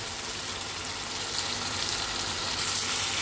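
Tomato and coconut puree hisses steadily in a hot pan for a Talakaya gravy curry, a loud, continuous bright sizzle with no talking.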